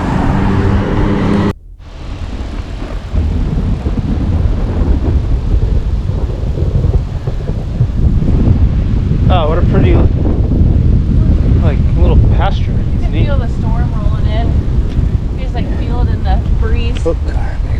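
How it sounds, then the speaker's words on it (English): Strong, steady wind roars across the microphone while riding on the road ahead of an approaching storm, loud and continuous throughout with a brief dip early on, alongside faint engine hum. "it's getting really windy"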